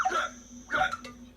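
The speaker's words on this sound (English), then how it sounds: "And shake those hiccups loose." A cartoon character hiccups twice in quick succession, each a short, sharp vocal gulp, clear and close with no talking over it.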